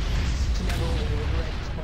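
Explosions in a Garry's Mod Warhammer 40K roleplay game, a loud, dense, continuous low rumble of blasts with no clear gaps, filling the short stretch.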